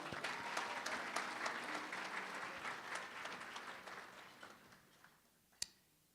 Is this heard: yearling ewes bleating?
no